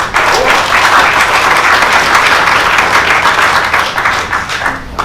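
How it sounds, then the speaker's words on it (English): A conference audience gives steady, dense applause to a speaker being introduced at a PostgreSQL event, loud and sustained for about five seconds with no talk over it. "Please give a great big round of applause to Peter Eisentraut."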